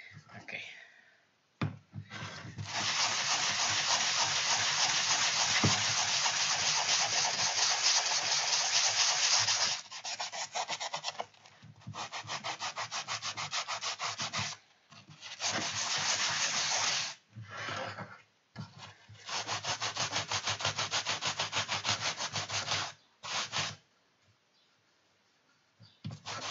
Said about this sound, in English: I think I'm due a new sanding sponge soon. This seems to be crumbling a bit.